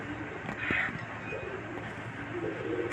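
Cooing from a silver racer pigeon, a hen that has just laid eggs, soft, low and close over a steady background hum, with faint noise from people nearby.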